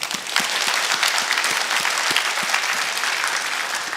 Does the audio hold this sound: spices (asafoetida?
no